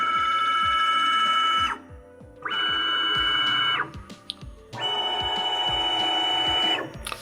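Accu-Pro VMC CNC mill jogging its axes with the longest tool in the spindle: three sustained whirring servo-motor drones, each lasting a second or two, separated by short pauses with faint clicks, close and steady, no talk.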